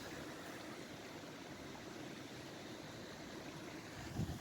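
A Dartmoor moorland stream trickles and babbles faintly in the distance, a soft continuous wash with no voices, ending in a brief low bump.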